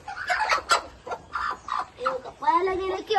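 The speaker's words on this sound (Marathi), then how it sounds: "ही कोंबडी आहे." A hen in a village coop clucks and squawks loudly and close by in a quick series of uneven calls.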